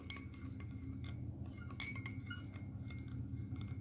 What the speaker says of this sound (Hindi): अब इसको आहिस्ता आहिस्ता मिक्स करें